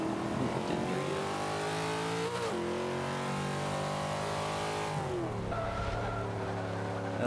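1993 Ford Mustang Cobra racing in Forza 5, its engine droning loud and continuous as it revs up, drops briefly when shifting, climbs again and dips before settling, with no talk.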